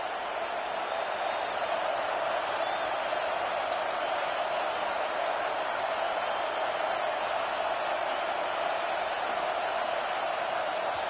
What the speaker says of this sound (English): This crowd bringing serious noise on this huge 4th down play.